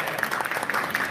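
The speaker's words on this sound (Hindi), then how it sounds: "ताली बजा दो भाई" Clapping for a student at a mobile software training institute, a short burst of steady applause from a small group lasting about a second, with no voices over it.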